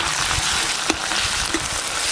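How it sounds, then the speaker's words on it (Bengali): Chopped onion with ginger and garlic paste fries in a pan after whole garam masala tempering, a dense, even sizzle close by with a couple of faint spoon taps. "ফোড়ন তো হয়ে গেল, এবার পেঁয়াজ কুচি দিয়ে দেব, আদা বাটা, রসুন বাটা,"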